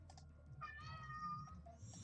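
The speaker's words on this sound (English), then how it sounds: "Okay, there's a cat." A cat meows a few times indoors, fairly faint and close, with a short cry in the middle followed by softer calls, over quiet room noise.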